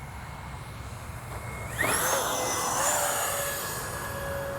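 A Freewing twin 70mm AL-37 RC model jet's turbines whine under a steady roar, the pitch sweeping sharply upward midway and then holding high as it flies past.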